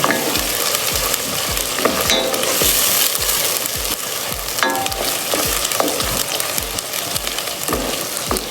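Ginger and garlic fry loudly in a pot while a spoon stirs them in a steady rhythm of scrapes, with a constant sizzle running underneath throughout.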